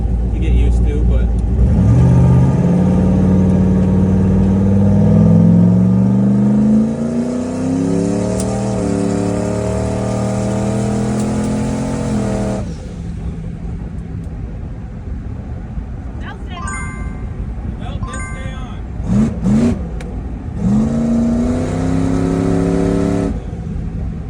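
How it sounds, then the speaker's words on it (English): A newly installed engine runs and revs in long rising pulls, loud and close, then settles to a rough idle before revving again, with voices talking over it. "This motor sounds strong."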